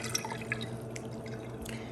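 Strained pineapple vinegar drips into a mason jar in a quiet kitchen, a few soft liquid plinks landing irregularly against a steady low background hum.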